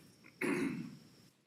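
A single throat clear and cough at a county board of commissioners meeting, one abrupt rasping burst that fades over about a second, close to the microphone in a quiet room.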